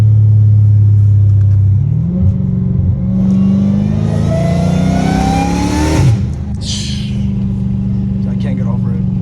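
A Dodge Hellcat Redeye cruising in 5th gear next to trees and a wall gives off a rising mechanical whine over a steady engine rumble, while someone talks in the car over it.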